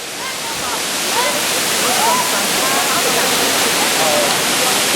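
Kintampo waterfalls in Ghana roar as a loud, continuous wash of falling water, with a few faint voices or bird-like calls barely surfacing through the steady rush.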